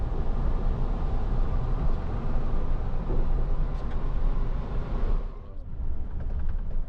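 Continuous low rumble and rattle of a passenger train moving on the rails between New York City and Chicago, steady throughout and easing slightly toward the end.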